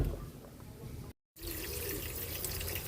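Running water from a tap pours over a boiled pork leg being washed, a steady hiss and splash with a momentary break partway through.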